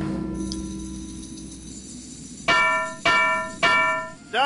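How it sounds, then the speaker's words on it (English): Bell ringing in the video game Edna & Harvey: The Breakout: after a quiet stretch, four loud metallic strikes land in steady rhythm, each ringing bright and decaying before the next. "Ring the bell."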